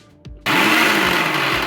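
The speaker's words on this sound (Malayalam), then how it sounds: "ഒരു മിക്സിയുടെ ജാറിലിട്ട് ചെറുതായിട്ടൊന്ന് അടിച്ചെടുത്താൽ മതിയാവും" A mixer grinder jar starts up and blends applesauce to a puree, a loud, steady whirring roar that begins abruptly after a short quiet moment and runs on at full strength.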